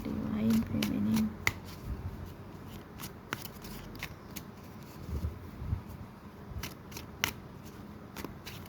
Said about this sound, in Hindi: छह कार्ड निकालते गाइस, उसके बाद हम रीडिंग करेंगे डिवाइन फेमिनिन के लिए।